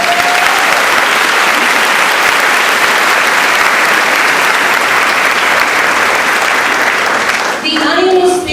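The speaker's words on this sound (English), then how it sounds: "Let's give our honored guests a round of applause for answering the charge" Sustained audience applause for honored guests at a Locke High School event, a dense, loud wash of clapping from a large crowd that continues steadily for several seconds before tapering, with a voice briefly heard at the end.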